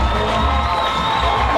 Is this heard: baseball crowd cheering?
yes